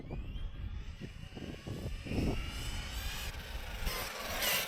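An HPI Savage XL Flux V2 brushless RC car on a 4S battery runs its motor at half throttle, a whirring electric whine that swells and fades as the car passes, heard at moderate distance outdoors.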